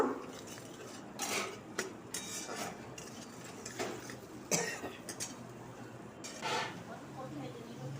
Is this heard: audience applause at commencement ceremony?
no